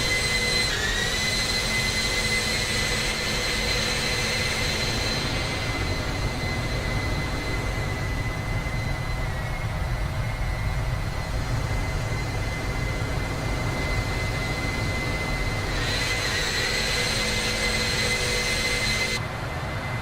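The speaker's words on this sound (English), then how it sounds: "The hum on those engines" Boeing 747 jet engines in a flight simulator game, a loud, steady hum and whine that holds constant throughout, close and unbroken, with no voices over it.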